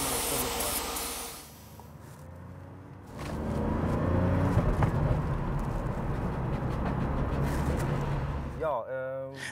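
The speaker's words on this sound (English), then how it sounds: "The engine is running well." A Mercedes 300SL with the M103 engine, fresh fuel pumps and filter after ignition trouble, runs on a test drive as a steady, fairly loud drone with road hiss, plus brief shifts near the start and end.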